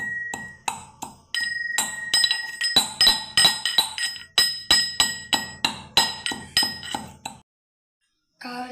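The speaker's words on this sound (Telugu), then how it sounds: "కావాల్సినంత కల్లుప్పు వేసుకోవాలి. మెత్తగా దంచుకోవాలి." Rock salt pounded finely with a pestle: a quick series of sharp, ringing strikes, close and loud, with a steady rhythm that speeds up slightly before stopping.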